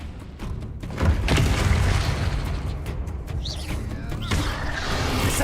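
A Confringo blasting spell in a Harry Potter video game sets off a heavy booming explosion about a second in, followed by crashing debris and a rumbling, noisy aftermath.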